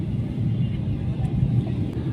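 A passenger airplane landing, heard from inside the cabin as a steady, loud, low rumble that lasts the whole time, with a few faint rattles over it.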